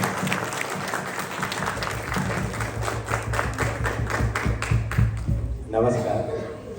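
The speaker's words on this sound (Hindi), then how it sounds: "जोरदार ताली।" A crowd applauds after a live stage performance, a continuous spatter of clapping that carries on under music and talk before fading out near the end.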